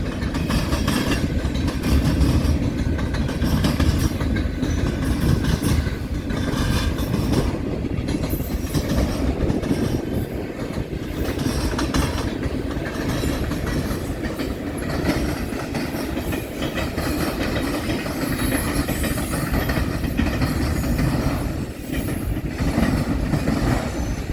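An eastbound Union Pacific manifest freight train rolls steadily past at close range for a long stretch. A loud, constant rumble of wheels carries rhythmic clicks over rail joints and occasional wheel squeal.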